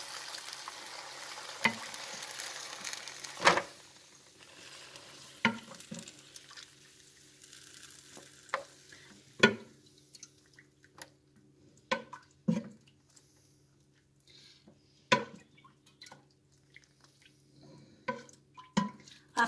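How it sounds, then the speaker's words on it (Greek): Cold syrup poured over hot roxakia pastries fresh from the oven, giving a close, quiet sizzle with scattered sharp crackles and pops at irregular intervals. "Βγήκαν από το φούρνο και κατευθείαν κρύο το σιρόπι, ζεστά τα ροξάκια. Κοιτάξτε πώς ακούγεται."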